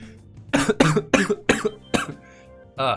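A person coughs repeatedly, five or six harsh, close coughs in a quick run, followed by a short vocal sound.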